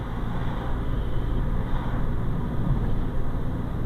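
A 1998 Honda Civic EX economy car's engine hums while driving, a steady low drone mixed with road noise heard from inside the cabin, moderately loud and unbroken.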